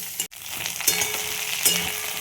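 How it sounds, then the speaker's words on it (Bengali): Potato chunks frying with onions in a pan for a rohu fish dish, a steady close sizzle with light stirring clatter and a couple of brief scraping bursts. "একটা আলু বড় কেটে এটাও পেঁয়াজের সাথে ভেজে নেব।"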